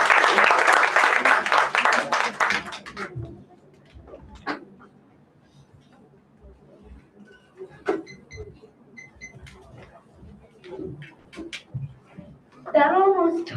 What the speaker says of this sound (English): One more round of applause for him, everyone